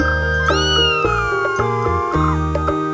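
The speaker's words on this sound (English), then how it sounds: "Kitten. K-I-T-T-E-N. Kitten." A kitten meows in a rising, drawn-out cry that tapers off, repeated over a steady background of light music, close and clear with no talking.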